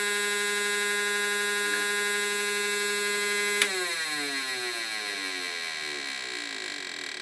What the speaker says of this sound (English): We sound like we have a gear that's stripped.